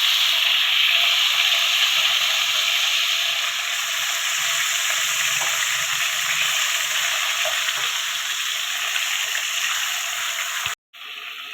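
Hilsa fish sizzling in hot oil with nigella seeds and two dried red chillies, a continuous close, loud crackling fry with faint stirring, ending abruptly.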